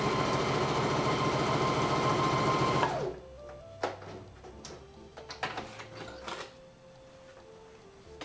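Sewing machine running a zigzag stitch, with a fast, loud, steady whirring buzz that stops after about three seconds, followed by quieter clicks and knob adjustments as the stitch length is changed.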